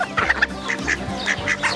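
Several ducks quack in short, loud bursts close by, repeated calls overlapping in an uneven rhythm, with no talking over them.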